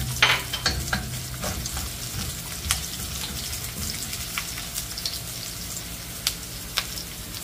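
Garlic and onion frying in a pan for fried rice, a steady close sizzle broken by sharp scraping stirs and spatula taps, strongest in the first second then settling into continuous crackle.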